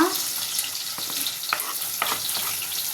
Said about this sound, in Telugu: ఉల్లిపాయ ముక్కలు కొంచెం వేగాలి నూనెలో ఉల్లిపాయ ముక్కలు వేగాక